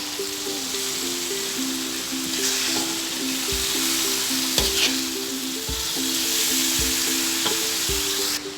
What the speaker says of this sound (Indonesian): Dan tempenya. Kita aduk-aduk rata.